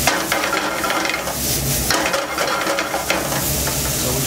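Chicken and bacon for coq au vin frying in a pan, a loud continuous sizzle with crackles and occasional scraping clinks of a utensil against the pan.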